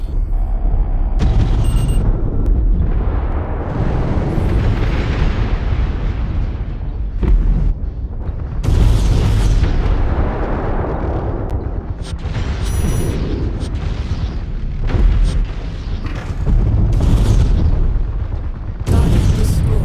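Heavy booming explosions in the MechWarrior 5 video game as a target is destroyed, loud rolling blasts and bursts following one another across the whole span with dense rumbling low end and no talk.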